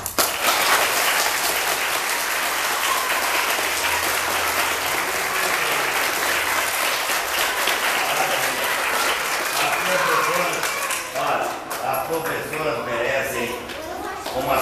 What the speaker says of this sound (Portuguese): Para quem que nós vamos bater palma? Para o professor!